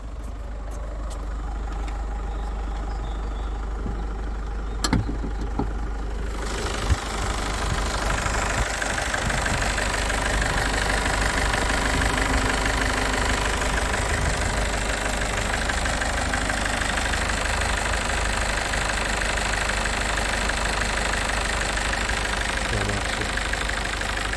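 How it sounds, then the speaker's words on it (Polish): A Peugeot 508 SW 2.0 BlueHDi 180 engine idling steadily with a low, even diesel rumble, continuous and close, with no talk over it. "silnik chodzi równo, ładnie"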